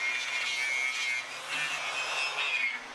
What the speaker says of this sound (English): I always like how the metal looks after going across it with the wire brush on the angle grinder.